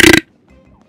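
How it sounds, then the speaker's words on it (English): A single loud, close burp lasting about a fifth of a second, followed by faint background game sounds, during a Super Mario 3D World session on the Nintendo Switch. "I'm going to burp just to insult the game."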